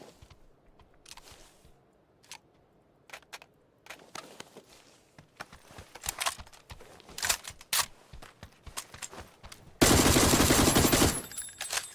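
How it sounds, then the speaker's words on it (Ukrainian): Bursts of K2 rifle fire in PUBG, shot at the ground during a duo match: scattered single cracks and short volleys build up, then a loud continuous stream of automatic fire near the end. "Це я стріляю в землю і дивлюся, як К2 все в точку летить"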